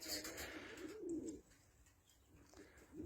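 White Istanbul pigeons coo in soft low rolling calls, close and fairly quiet, with a few faint chirps and rustles around them and no talking.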